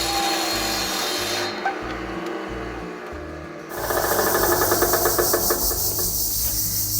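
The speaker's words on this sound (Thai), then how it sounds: "กดใบมีดลงเบาๆ ไม้ไผ่จะขาดออกจากกันแบบไม่ยากนัก" A bamboo-cutting saw machine runs with a steady mechanical whir throughout, then a louder, harsher grinding and rasping of its blade biting through bamboo takes over near the end.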